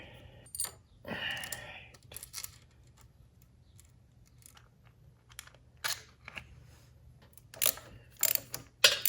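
Tools clicking and clinking against metal while a sprocket is pulled from a Honda Monkey engine: scattered faint ratchet-like clicks and taps, growing busier toward the end, close by in a quiet garage.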